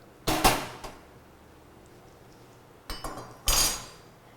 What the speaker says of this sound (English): Take the wok.